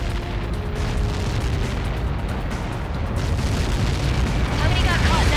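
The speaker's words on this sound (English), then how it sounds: "How many got caught in that explosion?" Huge explosion in the Ace Combat 7 flight combat game, a dense, loud, sustained roar and rumble that swells slightly and keeps rolling without a break.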